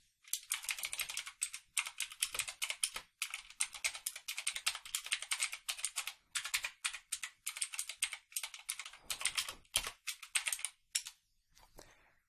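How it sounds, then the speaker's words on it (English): Typing on a mechanical keyboard with blue switches, loud clicky keystrokes in quick irregular runs with brief pauses, close and alone. "the blue switches are really loud and clicky"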